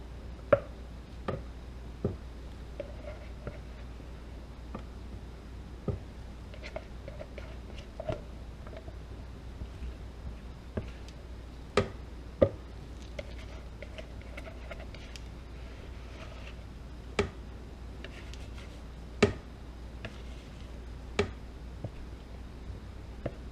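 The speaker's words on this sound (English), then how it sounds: "See if I can get this scraped out pretty quickly" Soap batter scraped out of a bucket: scattered sharp taps and soft scrapes of a spatula against the container, irregular and fairly close over a quiet background, with no talking.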